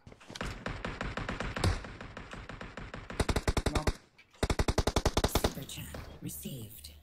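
Rapid automatic rifle fire from Mini 14 and MK weapons in a PUBG match crackles in fast bursts, with dense runs of evenly spaced shots separated by short pauses.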